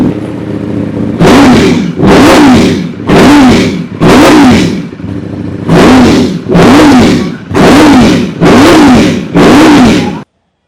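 A Ducati V4S superbike engine revs loudly in nine repeated bursts, each throttle blip roaring up and dropping back, with brief idle between.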